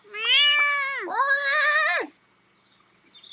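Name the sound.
cat meowing in the video game Big Farm Story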